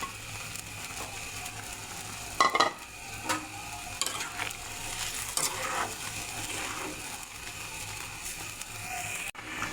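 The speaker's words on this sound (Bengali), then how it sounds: "ঝোলটা ফুটে উঠেছে, এখন ভেজে রাখা মাছের মাথা দিয়ে দেব" Fish curry with potatoes bubbles in a pot as a fried pangas fish head goes in, a constant simmering hiss with a sharp clatter early and scattered knocks of utensil on pan.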